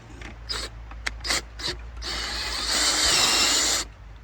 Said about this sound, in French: il va falloir réusiner le trou pour que la tige filetée puisse passer